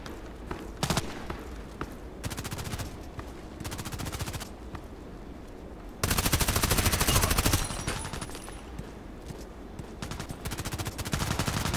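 Sniper rifle fire in a shooting video game rings out as a series of sharp reports, several bursts separated by pauses, the loudest stretch coming midway.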